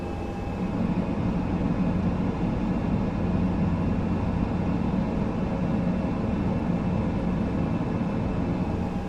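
Steady low engine drone of an ATR 42-600 turboprop taxiing toward airport gates with one engine feathered, in Microsoft Flight Simulator; a continuous hum with faint tonal whine, even in loudness throughout, with no talk.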